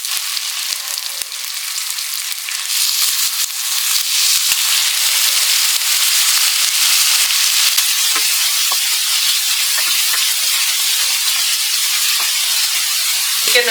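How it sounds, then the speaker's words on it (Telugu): Half a kilo of chicken with ginger-garlic paste sizzles loudly in hot oil for a pepper masala chicken fry, giving a steady, bright hiss with faint crackles throughout and no voices. "చికెన్ వచ్చేసి ఒక 2-3 నిమిషాలు మనం ఇలాగే ఆయిల్లోనే ఫ్రై అవనిద్దామండి."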